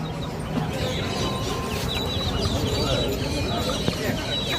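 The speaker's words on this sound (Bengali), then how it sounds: "80 লড়াই করার মুরগি" Fighter roosters, a breed kept for cockfighting, at a crowded fancy-poultry shop cluck and crow in a steady busy chorus, with other birds chirping and people talking in the background.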